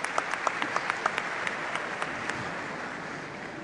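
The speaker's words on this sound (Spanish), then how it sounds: "Aplausos." Applause from the audience at the Brasil 2014 World Cup draw ceremony, a brief burst of clapping with sharp sporadic claps standing out and fading after a few seconds.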